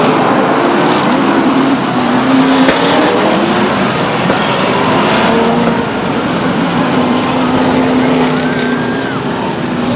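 Race cars roar at Stockton 99 Speedway as a race gets under way, a dense, continuous engine rumble that stays loud for the whole stretch, with a faint announcer voice buried in the din.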